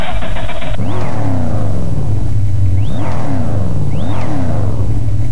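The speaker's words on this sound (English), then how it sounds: "The whistle is the turbocharger you hear." Synthesized car acceleration effect with a turbocharger whistle, built in a sound editor: three rising engine sweeps with a high whistle climbing over each one, loud and close with no voices.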